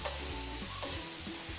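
Mushrooms sizzle loudly in a hot pan with salt while being sautéed, a bright continuous frying hiss broken by scraping stirs of a utensil.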